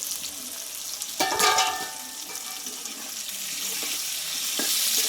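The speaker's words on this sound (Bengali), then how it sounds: "এ পটলটা ভালোভাবে ভেজে নেব" Pointed gourd (potol) frying in plenty of oil makes a continuous close sizzle, with a brief clatter of utensils near the start and a short tap later on.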